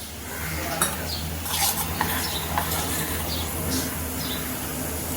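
Brownie batter of cocoa powder, wheat flour and milk is stirred in a bowl, giving a steady soft scraping swish with a few light clinks of the spoon against the bowl, close and continuous.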